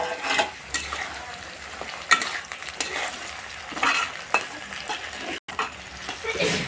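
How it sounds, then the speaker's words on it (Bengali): Browned onions and chopped tomatoes being stirred in a frying pan, loud close sizzle punctuated by repeated scraping strokes of a spatula at an uneven rhythm, with no talk. "এবারে আমি ভালোভাবে নেড়ে নেবো।"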